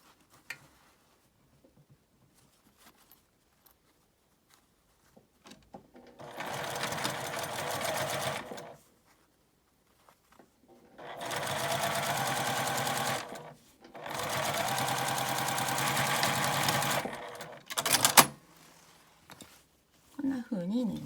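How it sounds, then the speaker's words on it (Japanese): Sewing machine stitching the lining fabric of a clear-window key case with a double zipper, running in three steady bursts of a few seconds each, separated by pauses, with brief handling noises between. "ポケットのない方の裏布をここにかぶせて、裏からさっきの縫い目の下を縫います。"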